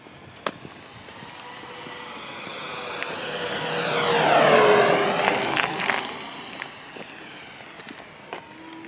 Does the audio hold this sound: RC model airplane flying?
yes